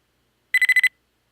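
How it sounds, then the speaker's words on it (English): A spider robot's alert in a video game: a rapid burst of five short, bright electronic beeps, clean and isolated against silence. "So a little couple of beeps as it wakes up."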